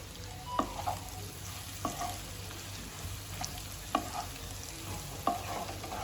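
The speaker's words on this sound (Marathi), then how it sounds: "आता गाबोलीवर बारीक तिळी कोथिंबीर टाकूया आणि कोथिंबीर मिक्स करून घेऊ" Chopped coriander is stirred into frying parrotfish roe gaboli in a pan, a steady soft sizzle broken by several sharp scraping strokes of the spoon at regular intervals, with no talking.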